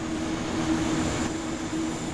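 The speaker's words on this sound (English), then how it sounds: "This high-speed electrical multiple unit is manufactured by Siemens and is operated in Germany by Deutsche Bahn." A Siemens high-speed electric multiple unit operated by Deutsche Bahn runs in Train Sim World 3, giving a steady low rumble with a faint tonal hum, continuous and fairly loud, with no talking.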